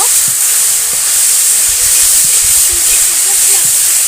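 Banana flower dishes sit in a hot pan for a village-style cook, throwing out a loud, continuous steamy hiss and sizzle that runs unbroken with faint clatter beneath and no talking.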